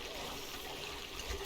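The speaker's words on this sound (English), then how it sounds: "Just want to get rid of this little waterfall." Small in-game waterfall from Oxygen Not Included, a soft continuous trickle and splash of falling water, steady and fairly faint throughout with no pauses.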